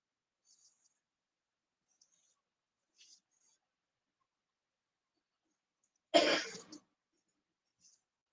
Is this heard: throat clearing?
yes